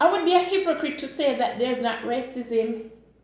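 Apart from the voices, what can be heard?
None of the usual background noises is heard.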